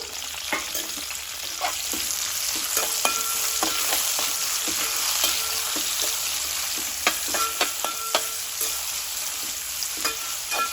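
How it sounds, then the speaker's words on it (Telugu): Sliced onions and green chillies fry in hot oil for a biryani, giving a steady bright sizzle throughout, with scattered clinks and scrapes of stirring near the pan. "ఇవి ఒక రెండు నిమిషాలు నూనెలో మగ్గనివ్వాలండి"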